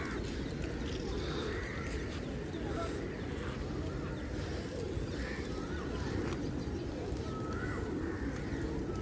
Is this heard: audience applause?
no